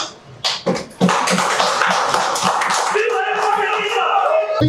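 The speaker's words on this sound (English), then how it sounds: "we should be given a good clap" A crowd at a Ugandan political gathering claps loudly and continuously, starting with a few sharp slaps before swelling into dense, sustained applause.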